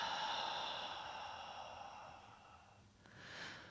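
A slow, soft exhale during a beginner Pilates exercise for the back and neck, with close airy breath that fades out and then a brief second puff, and no talking.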